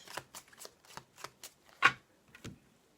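A deck of tarot cards is cut and shuffled by hand, with a handful of short, crisp riffling bursts and slaps spaced irregularly, close and fairly quiet, and no voices.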